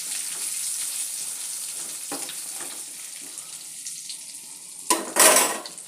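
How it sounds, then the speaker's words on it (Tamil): Brinjal and spice powders fry in a pan, a steady hissing sizzle with occasional stirring scrapes, fading slightly before a loud burst of sizzling and spatter near the end. "அத்தனையுமே போட்டுட்டு நல்லா ஃப்ரை பண்ணணும் இப்படி"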